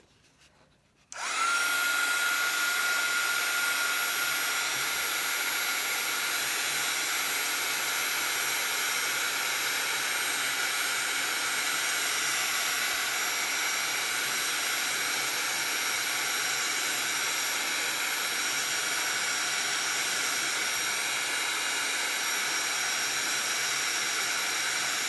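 A hair dryer blowing on tea-dyed fabric to dry it quickly starts abruptly, then runs as a loud, steady whirring rush for over twenty seconds with no change and no voices.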